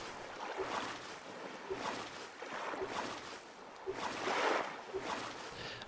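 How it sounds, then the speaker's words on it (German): Paddle strokes through water in the survival video game Stranded Deep: about five soft, rushing splashes at a steady pace of roughly one per second, fairly quiet and alone over a faint watery background. "Also das Paddelgeräusch, habe ich das Gefühl,"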